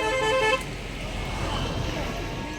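A scooter horn sounds in a steady, even toot for about half a second at the start, close and fairly loud. Outdoor traffic-like ambience follows.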